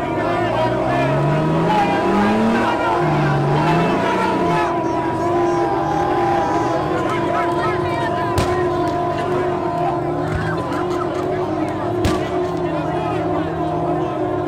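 Cars revving at an outdoor auto show, including a Toyota, their engines droning and whining in sustained, shifting tones, with a crowd and voices mixed in and a couple of sharp bangs.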